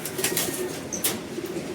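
Pigeon sounds in a racing-pigeon loft, with soft low coos and brief wing flutters close by over a steady rustling background, and no talk.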